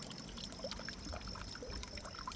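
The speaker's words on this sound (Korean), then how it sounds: "여기 태양열로 해서 물도 이렇게 순환하고 있고" A solar-powered pump circulates water in a garden pond planted with water lilies and stocked with small fish and shrimp, producing a steady, close trickling and pouring splash that runs on without pause.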